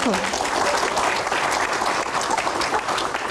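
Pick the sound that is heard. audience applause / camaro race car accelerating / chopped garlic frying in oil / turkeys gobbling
audience applause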